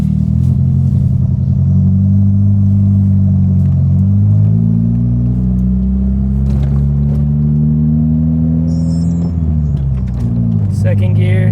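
A Honda Prelude with a damaged transmission pulls away in first gear, its engine droning steadily and climbing in pitch under load, heard loud from inside the cabin, with no talk.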